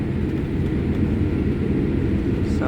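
An Air India 787 Dreamliner taxiing at Lucknow airport toward runway 27, heard from inside the cabin as a steady low engine and cabin rumble with faint rattles and no talking.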